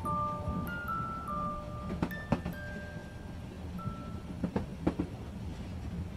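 Train carriage of the Hogwarts Express rumbling steadily along with faint squeals and a few sharp clunks and rattles scattered through the ride.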